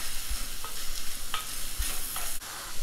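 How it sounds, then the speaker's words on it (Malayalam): Sliced onions sautéing with salt in a pan for a Kerala-style king fish roast, with a soft steady sizzle broken by repeated scraping stirs of a spatula, close and fairly quiet. "ഇതിലേക്ക് ആവശ്യത്തിനുള്ള ഉപ്പും കൂടി ചേർത്ത് ഇത് നന്നായിട്ടൊന്ന് വഴറ്റിയെടുക്കണം"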